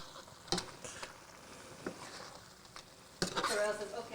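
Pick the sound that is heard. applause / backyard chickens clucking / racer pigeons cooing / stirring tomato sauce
stirring tomato sauce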